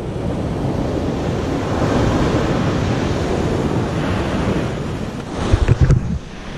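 Waves washing onto a nearly empty beach make a steady broadband rush, with wind buffeting the microphone in a few sharp gusts near the end and no talking.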